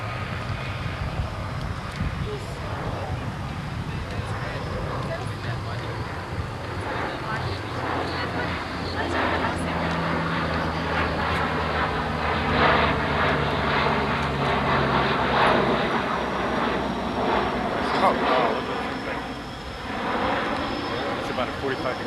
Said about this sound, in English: Ladies and gentlemen, the AC-130 gunship,